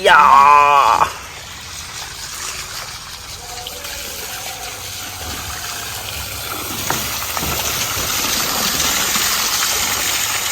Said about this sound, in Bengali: তো এখন জল ছাড়বো এখান থেকে শুরু করি